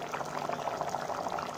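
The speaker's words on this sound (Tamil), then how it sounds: "நல்லா கொதிக்குது." A chickpea kadalai curry simmers and boils in a pan, giving a steady, close bubbling and gurgling with no voices over it.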